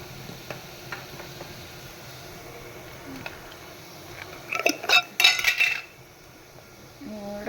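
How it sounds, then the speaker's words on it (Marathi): Onion and asafoetida sauté in oil in a pan, heard as a soft background sizzle broken by a cluster of louder clinks and scrapes of a utensil against the pan midway, with no speech. "आता हा छानपैकी असं आपण कांदा परतवून घेतो आहे"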